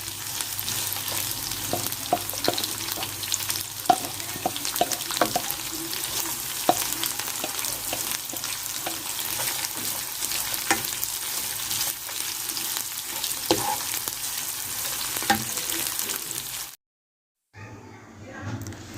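Onions fry in a hot pan with a steady, loud sizzle broken by scraping stirs, then a brief cut to near silence before faint noise resumes near the end.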